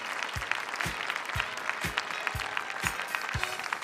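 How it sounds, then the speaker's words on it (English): Audience applause for youth performers at a youth art showcase on a concert stage, a steady sustained wash of clapping from a crowd, fairly close and continuous throughout. "Another round of applause for all these outstanding students."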